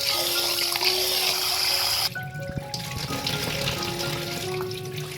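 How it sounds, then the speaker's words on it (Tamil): Rice with a little fenugreek being washed by hand in water, the water splashing and pouring off in a steady close wash, with a brief pause partway through and no speech. "கழுவி தண்ணியை கீழே ஊற்றிடணும்."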